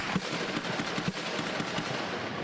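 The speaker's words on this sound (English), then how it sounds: "the first shots on Mosher's phone are from Rael's assault rifle." Rapid bursts of assault rifle gunfire crackle in quick succession during a shootout with police, sharp cracks repeating against a noisy, hissing background, sounding somewhat distant and muffled.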